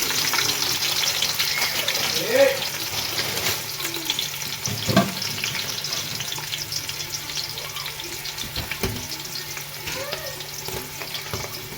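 Onions sizzle in hot oil for biryani, a steady moderate frying hiss with occasional bubbling and a couple of louder clatters of a spoon against the pan.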